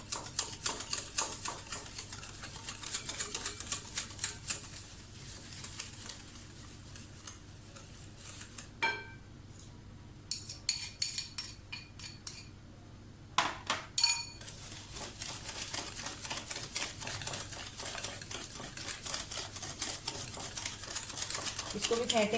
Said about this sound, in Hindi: एग्स बीट करते हुए आप देख सकते हैं झागा बनना शुरू हो गया है